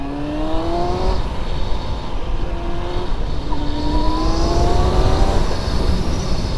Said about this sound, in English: so far the bike is running great.